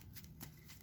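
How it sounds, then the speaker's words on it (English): A deck of playing cards being shuffled off to the side, a quick papery riffle of soft bursts in steady succession, fairly quiet with no talk. "I'm shuffling off screen again like an idiot"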